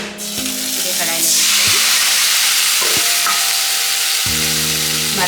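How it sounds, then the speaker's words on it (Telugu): Half a kilo of thinly sliced tomatoes sizzle loudly and steadily in oil in a kadai, a continuous frying hiss marked by a few clinks and scrapes. "మరికొద్దిగా ఆయిల్ పోసుకొని ఈ టమాటాలను మెత్తగా ఉడికించుకుందాం"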